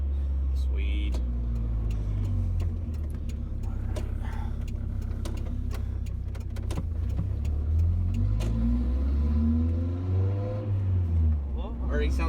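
Deep, rumbling 22RE engine of a 1992 Toyota pickup with new headers revving up and down repeatedly with a throaty tone, close by, with quiet voices murmuring underneath.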